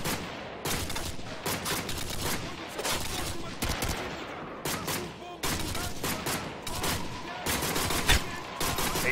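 Heavy gunfire in Call of Duty: Modern Warfare 2 during the Contingency mission: sustained volleys of rapid shots and loud cracks, continuous and close, with brief spoken lines mixed in.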